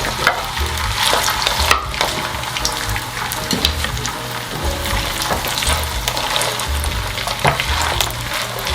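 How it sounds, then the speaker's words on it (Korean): Korean rice cakes for soup sizzle and fry in a generous layer of oil in a pan, a loud, steady crackling bubble close up with occasional stirring clatter and pops. "기름이 이제 젓가락을 넣어서 뽀글뽀글 가장자리 올라오면은 떡을 다 넣어주세요."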